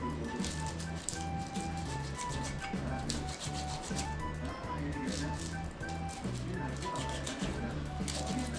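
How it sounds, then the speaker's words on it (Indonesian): Chili peppers are ground by hand in a stone mortar (ulek), with a steady scraping and rubbing of stone on stone that continues without pause at a moderate, close level. "Setelah itu kemudian saya lanjutkan mengulek cabai seperti ini"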